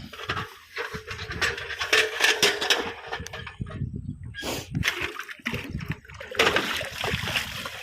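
Water splashes and sloshes while a bucket is filled outdoors at a village rice field, with irregular bursts of splatter and trickling, fairly close and moderately loud.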